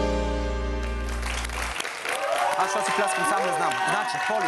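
Clapping applause from a studio crowd on a Bulgarian comedy talk show swells after a sustained tone cuts off, continuing dense and steady with voices mixed in.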